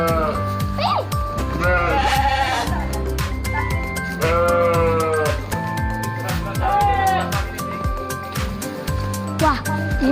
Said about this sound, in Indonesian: Itu ada domba.